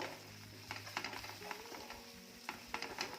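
Okra spiced with coriander powder, garam masala and red chili powder sizzles in a pan while a spoon stirs and scrapes through it, producing a steady frying hiss broken by irregular scraping knocks.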